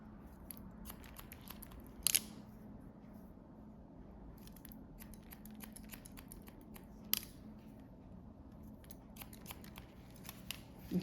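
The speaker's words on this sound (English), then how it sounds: "I'm just point cutting into that" Scissors snip point-cutting into the ends of a woman's short A-line haircut, with a few sharp, crisp clicks spread through a quiet stretch and several fainter snips between them.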